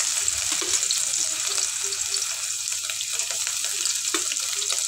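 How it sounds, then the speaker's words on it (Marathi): Finely chopped onion frying in oil with spluttering cumin and mustard seeds, a loud continuous sizzle close up with occasional small crackles throughout. "आता त्यात कांदा काढून घेऊ बारीक चिरलेला."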